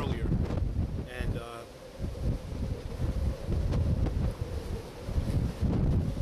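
Hurricane Irene gusting at a lighthouse, heavy buffeting wind roaring across the microphone in surging gusts, with a voice talking faintly underneath.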